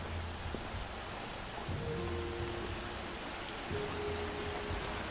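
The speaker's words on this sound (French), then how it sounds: "Ah, la pluie arrive." Steady rain in the video game Far Cry 2 hisses continuously, with a low rumble and a few faint tonal sounds drifting through the background.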